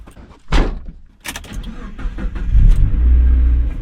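Stock Mazda Miata door being unlocked and opened up close: a sharp latch click and clunk, then a rustling handle and door movement over low rumbling, with no talking.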